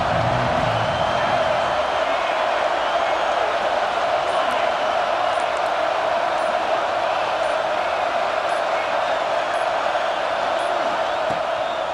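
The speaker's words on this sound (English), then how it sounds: "This crowd ready to make its presence known." Stadium crowd in the EA Sports College Football 26 video game, a dense, steady roar of cheering fans filling the whole stretch, loud and continuous with no clear breaks.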